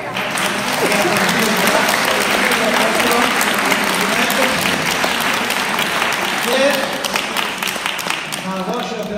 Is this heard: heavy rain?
no